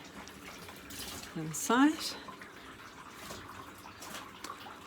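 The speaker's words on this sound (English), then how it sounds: "You can hear the water rushing down" Hand-washing water rushing down a shower tray drain, a soft, steady gurgling wash close by, with a brief louder surge and whistling swirl near the middle and a voice speaking briefly.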